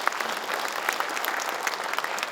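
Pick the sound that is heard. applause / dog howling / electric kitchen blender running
applause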